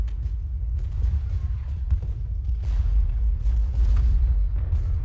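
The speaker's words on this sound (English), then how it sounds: "now we'll see what 445 cannons can do to these men. Let's have them fire into Kemper." Massed cannon artillery firing in the Civil War video game Ultimate General Gettysburg, a continuous rumbling barrage of heavy booms with overlapping blasts that build louder toward the end.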